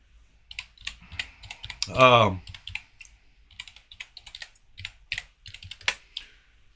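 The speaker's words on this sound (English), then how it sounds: "What did I type wrong on my stupid keyboard?" Clicky keystrokes on a computer keyboard come in irregular bursts throughout, close and crisp, with a short spoken remark cutting in briefly.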